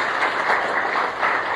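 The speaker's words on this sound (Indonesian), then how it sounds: "Beri tepuk tangan terbaik buat Tuhan Yesus." A church congregation at a worship service gives a brief burst of dense, even applause. It is moderately loud and fills the room, with no speech over it.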